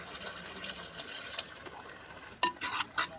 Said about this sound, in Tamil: தண்ணி சேர்த்தியாச்சுங்க. தண்ணி சேர்த்தி நல்லா கிளறி விட்டுருங்க.